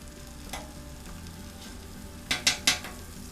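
Butter sizzling on a griddle for shrimp and grits, a soft steady fry broken near the end by three quick scraping knocks, quiet and close.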